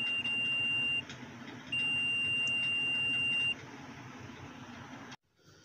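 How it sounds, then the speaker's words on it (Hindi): A multimeter buzzer sounds a steady electronic tone during a diode check, two longer beeps with a pause between, over a constant low background hum that cuts off at the end. "तो बजर की आवाज़ आ रही है, ये डायोड चेक कर रहे हैं,"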